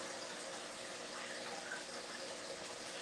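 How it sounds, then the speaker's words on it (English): Water runs steadily as a broad, even rush, like a tap filling a bucket, holding constant for a few seconds without a break. "I just heard water running."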